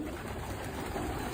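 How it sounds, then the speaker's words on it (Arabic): Pigeons coo softly amid a steady wash of background noise, their low murmuring calls blending into the surroundings. "هاي الحمامات"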